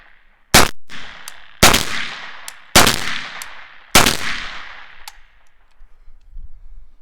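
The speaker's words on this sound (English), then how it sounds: "I got the barrel shroud on, 5 rounds with the Whitman SME." Four sharp rifle shots from an AKV fitted with a barrel shroud and a Witt SME muzzle device, evenly spaced about a second apart, each loud crack trailing off in a ringing echo.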